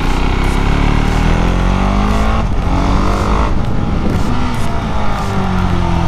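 A Husqvarna Svartpilen 701 roadster with a supermoto engine and quickshifter howls loudly on a race track, its single-cylinder note rising and falling through rapid gear changes, sustained and close throughout.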